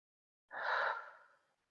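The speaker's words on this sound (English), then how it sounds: "A little more active, the exhale." A single long, breathy exhale pushed out actively during breathing meditation, close and fairly soft, rising quickly and then trailing off over about a second.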